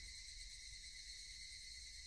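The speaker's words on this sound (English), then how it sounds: "Only the cry of the cicadas remained annoyingly loud" Steady, shrill cicada drone from the visual novel game Higurashi, a dense continuous high buzz with no breaks, loud and unchanging, with no voices.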